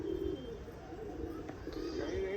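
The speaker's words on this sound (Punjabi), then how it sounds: "ਕਬੂਤਰ ਬਾਹਰ ਕੱਢਤੇ ਆਪਾਂ ਹੁਣ" Soft, repeated cooing of pigeons sits close by over a constant low background hum.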